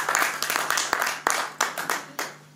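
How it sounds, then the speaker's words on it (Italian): A small audience at a book presentation in Catania claps, a loose run of separate, sharp hand claps that come and go over a few seconds, close and moderately loud. "Un applauso alla risposta."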